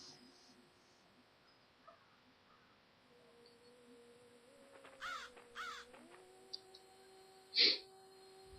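A bird caws twice in quick succession midway through, followed by a sharper call near the end, amid the ambient sound and rising synthetic tones of the vampire video game Bloodlust Vampire Shadowhunter.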